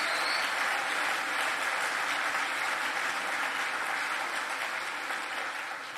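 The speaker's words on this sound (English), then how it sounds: "Yes, please applaud." A room full of people applauds, a sustained wash of clapping at moderate distance that holds steady and fades slightly near the end.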